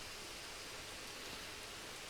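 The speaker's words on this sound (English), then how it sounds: "Oh, it's raining again." Steady rain in Manor Lords, an even, faint hiss of countless drops falling continuously without pause.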